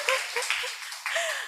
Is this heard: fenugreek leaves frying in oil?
no